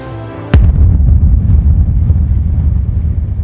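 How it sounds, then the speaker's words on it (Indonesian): A sudden heavy bomb blast in Bogotá booms out after a brief tone, followed by a deep rumbling roar that lingers. "Bom meledak di Bogota, diduga kuat kiriman dari kartel Medellin."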